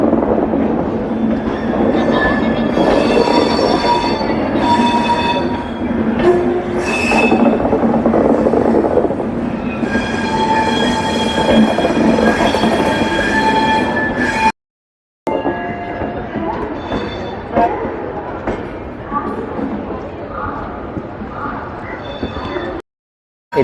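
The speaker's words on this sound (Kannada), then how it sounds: "ಜನ್ರೇಟರ್ ಕಾರಿಂದ ಹೆಂಗೆ ಹೋಗಿ ಬರೋದೈತೆ ನೋಡ್ರಿ ಇದನ್ನು" Train coaches and a generator car roll past during shunting at a station. The clatter and rumble are loud and continuous, with brief clinks of metal, then drop out briefly near the end before resuming, and no one talks.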